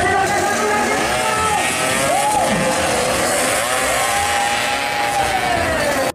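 A toy Vespa scooter gives off a loud, continuous buzzing engine whine whose pitch rises and falls in revving sweeps, running without a break.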